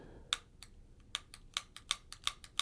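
Pistol trigger clicking during dry-fire practice at home, a series of about a dozen sharp, close mechanical clicks in an uneven rhythm, quiet otherwise with no talking.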